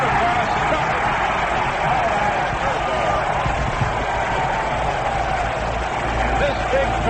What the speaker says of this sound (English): this big crowd, a standing ovation for Koufax for setting the new World Series strikeout record